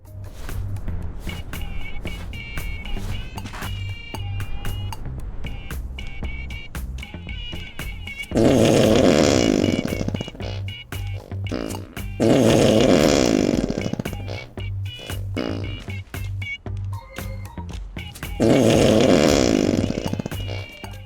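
Whoopee cushion fart noises from an Easter egg in Goat Simulator Payday, three loud, long blurting bursts breaking in at intervals over steady game music.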